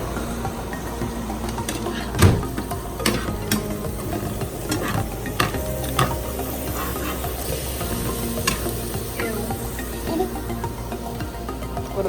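Pork for an Asian bulgogi stir fry sizzles and crackles steadily in a hot pan, with clanking stirring strikes and scraping spikes over a continuous frying hiss, close and fairly loud.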